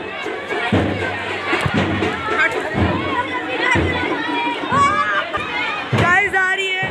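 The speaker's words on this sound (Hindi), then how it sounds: "देख सकते हो कितनी भीड़ है यहाँ पे" Dense crowd noise at a street procession (juloos), a busy babble of many voices with shouts and occasional thumps, loud and continuous throughout, with a few nearby voices rising above the crowd.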